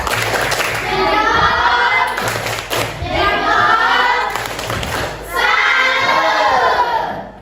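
A school class of children shouts a loud rhythmic chant together with claps and thumps, several bursts in a row, filling the classroom.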